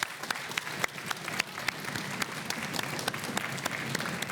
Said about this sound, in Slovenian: pa vseeno aplavz.